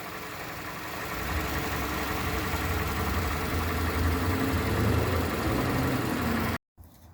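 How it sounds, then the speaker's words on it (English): A freshly overhauled 2007 Toyota Camry engine idles steadily with a low, even hum and continuous mechanical whir before cutting off abruptly near the end. "The engine's running."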